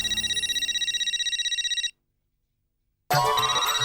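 A telephone ringtone for an incoming call plays loudly in a rapid pulsing electronic trill, stops for about a second, then starts again.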